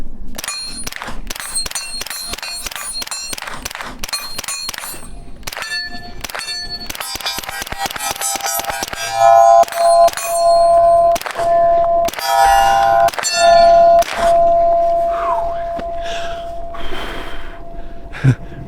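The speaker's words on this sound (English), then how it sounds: "A lot of rounds suppressed there in a row, so it's getting hot." Rapid strings of suppressed shots from a Springfield Kuna pistol crack sharply in quick succession, close and loud, followed by sustained metallic ringing and clanging tones.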